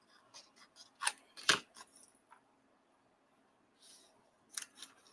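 Scissors trimming the edge of a paper craft piece give a few quick, close, quiet snips and rustles, with short gaps between them.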